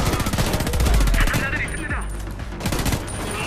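Rapid automatic gunfire rattles in a burst of dense, loud shots during a firefight in the video game Homefront: The Revolution, followed by scattered single reports and echoing impacts.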